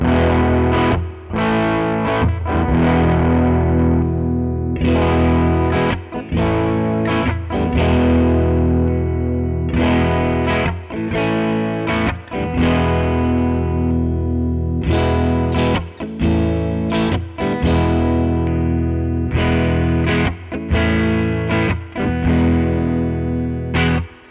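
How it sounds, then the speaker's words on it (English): Thick, overdriven Sterling Cutlass CT20 electric guitar on the bridge pickup playing loud chords and riffs continuously, with a bright, gritty edge and brief gaps between strummed phrases. "I think I can go ahead and say I do prefer the sound of this guitar a little bit more overdriven."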